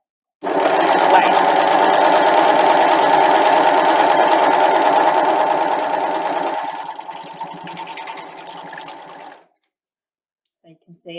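A Husqvarna Viking Amber Air S 400 serger runs continuously as it stitches fabric, a loud, steady mechanical whir that eases slightly in pitch toward the end before stopping, with brief handling sounds afterward.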